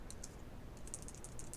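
Bracket keys tapped on a computer keyboard to change brush size in Photoshop, producing a quick series of faint, close clicks, a few early and then a denser run of taps against a quiet background.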